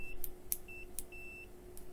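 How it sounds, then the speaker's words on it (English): Soft, thin continuity beeps from a Major Tech MT1880 waterproof multimeter, sounding as several short, quiet tones at irregular intervals over a steady low hum, with faint clicks between them. "the beep is very soft"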